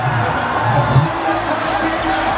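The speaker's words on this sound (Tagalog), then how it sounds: "The Huskers and their traveling fans are celebrating at the moment." Traveling Huskers fans cheer and whoop at an MPBL South Division Finals basketball game between Quezon and Batangas City, a loud continuous crowd roar with shouting layered over it.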